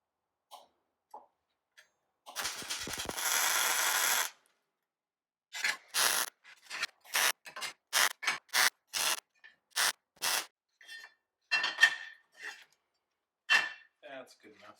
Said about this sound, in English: let's get that welded on